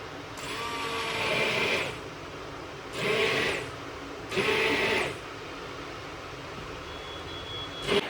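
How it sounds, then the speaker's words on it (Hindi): A kitchen blender chops and blends large tomatoes in three separate bursts of loud, high-pitched whirring. Quieter background noise fills the gaps between the bursts, and a short beep sounds near the end. "वो ब्लेंड कर रही है, बिकॉज उसके अंदर जो टोमेटोज है थोड़े बिग बिग है"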